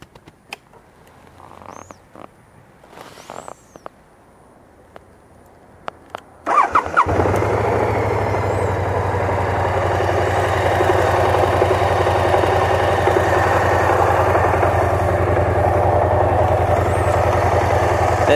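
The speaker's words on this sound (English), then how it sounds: "let's start her up and let's see." A BMW C600 Sport scooter starts up after some quiet handling noises and clicks, its engine catching abruptly, then settling into a steady, fairly loud idle that runs on without talk.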